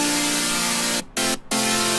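A bright, hissy synth tone holds, then cuts out twice for short gaps before resuming, alone and loud throughout.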